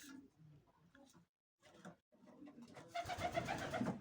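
Soft coos from racing pigeons at a loft during a race come in short bursts with brief pauses, then a busier stretch of cooing and rustling toward the end.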